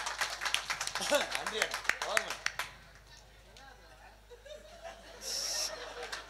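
An audience at a village stage event claps in a quick burst of sharp, loud hand claps mixed with chuckles, then fades into quieter talk and laughter.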